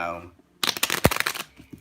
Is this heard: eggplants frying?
no